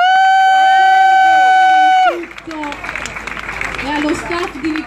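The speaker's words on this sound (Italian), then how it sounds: "Intanto facciamo un applauso alle persone che sono state dietro la macchina" Applause breaks out for the staff behind the espresso machine at a world-record coffee extraction event, a burst of crowd clapping and cheering that follows a loud sustained tone and continues under chatter.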